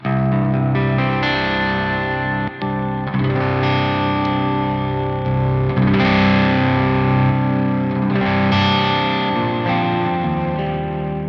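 Heavily distorted electric guitar chugs and chords through a Synergy SLO II amp module with its tight switch on, continuous and loud with a thick, saturated tone and no talking.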